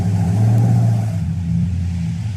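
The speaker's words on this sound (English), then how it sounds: "They're backing right up to his truck." A car close by with its engine running loud and steady as it backs up toward a truck, a low rumbling drone that eases slightly partway through, with no voices.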